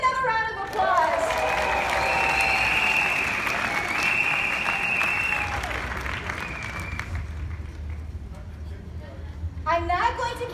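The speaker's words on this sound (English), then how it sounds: "Give them another round of applause." Loud, sustained applause with cheers fills a large Las Vegas conference hall for several seconds, then tapers off. A voice speaks over the crowd near the end.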